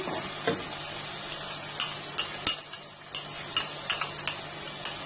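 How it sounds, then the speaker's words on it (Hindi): Chicken korma frying in a pot with whisked yogurt just added and stirred with a spoon: a steady, loud sizzle broken by frequent spoon scrapes and clinks, with no voices. "अब आप इसमें जो मैंने आपको दही बताया था उसको थोड़ा चम्मच से इस तरह फेंट के वो डाल दें।"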